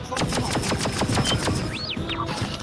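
Rapid bursts of blaster gunfire from the Star Wars: Tales From the Galaxy's Edge video game, a fast rhythmic volley of shots with a couple of sweeping electronic whines near the end.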